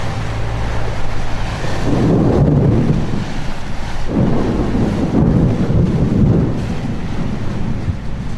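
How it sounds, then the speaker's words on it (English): Thunder rumbles through a lightning storm at sea, with loud, strong wind buffeting the microphone continuously and heavy swells of roaring noise rising and falling. "a freak lightning storm breaks overnight, forcing them into survival mode"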